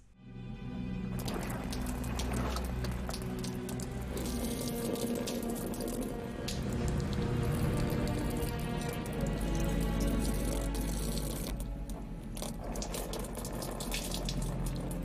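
Water pours and splashes steadily for several seconds, a continuous running, spattering sound with no voices.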